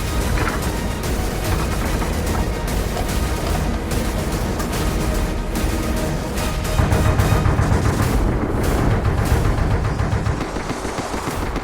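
Oerlikon anti-aircraft gun firing continuously, a dense, loud, rapid stream of shots blending into a sustained roar with no pauses.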